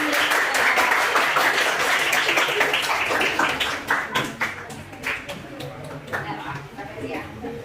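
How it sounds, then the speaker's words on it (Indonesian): A classroom of students applauding their presentation, dense clapping at first that thins into scattered, distinct claps, with voices audible underneath. "Berikan tepuk tangan dulu kalian"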